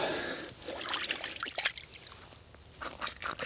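Creek water trickles and splashes close by, a bright, uneven bubbling that swells and fades with scattered crunching sounds.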